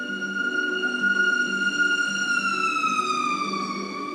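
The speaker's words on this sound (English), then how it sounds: "sorry again about the siren in the back." An emergency vehicle siren wails outside, a loud, continuous rising and falling tone that sweeps steadily and dips near the end, heard alone with no talk over it.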